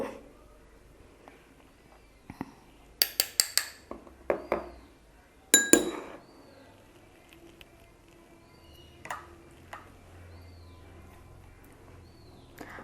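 A spoon scoops gram flour into a bowl for a homemade face pack, giving a cluster of sharp clinks and taps against the bowl, then a few softer knocks amid quiet room hiss.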